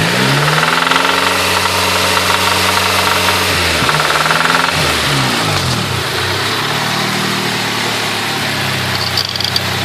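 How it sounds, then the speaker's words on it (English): A Honda B16A engine runs with a steady knocking, suspected from a spun bearing, close and loud throughout, its pitch dipping and rising as the revs change. "So is that a spun bearing?"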